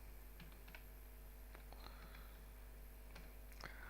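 Item names being typed on a computer keyboard, scattered soft key clicks in short irregular bursts, faint and close over a low steady hum.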